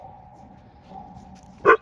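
A single short dog bark near the end, after a quiet stretch with a faint steady hum.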